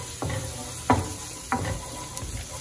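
Garlic sautéing in hot oil in a pan: a steady, close sizzle broken by a few sharp clicks and scrapes of a utensil. No voices.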